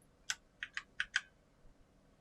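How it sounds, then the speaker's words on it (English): Arrow keys on a computer keyboard are pressed in quick succession, five crisp close clicks in an uneven rhythm over a quiet background. "Else you hit the arrow keys and try to line it up"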